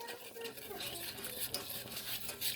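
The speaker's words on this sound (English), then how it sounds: "whisking all the flour and the garlic and" A whisk stirs flour, garlic and water into a roux in a pan for sausage gravy, making a continuous soft scraping and sloshing, close but quiet, with faint speech beneath.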